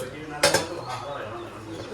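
A metal pressure cooker lid and plate are set in place for steaming khaman, giving a sharp metallic clank and a second lighter clink, followed by faint kitchen rustling.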